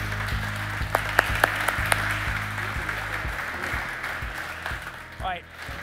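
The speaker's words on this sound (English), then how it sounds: "A round of applause." Audience applause in a hall after a film screening, steady clapping throughout with a few sharper claps near the start, a low repeating hum underneath and a voice briefly rising near the end.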